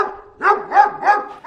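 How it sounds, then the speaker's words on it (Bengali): A dog barks close behind someone on a winter morning at home, four quick bow-wow barks in a row, loud and near, with no talking. "আমার পিছন থেকে এরকম ডগির আওয়াজ হচ্ছে কেন?"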